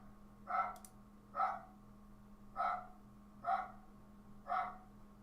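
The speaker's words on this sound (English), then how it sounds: "a very loud dog" A very loud dog barks five times at a slow, even pace, each bark short and sharp against a quiet background with a low steady hum.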